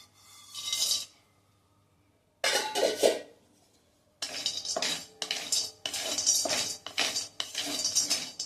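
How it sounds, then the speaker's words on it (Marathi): A spoon scrapes and clinks against a pan while water chestnut pieces are stirred and dry-roasted for a fasting bhajani flour, heard as close, loud bursts of metallic scraping with short pauses between strokes. "सारखं सतत हलवत हे भाजून घ्यायचे."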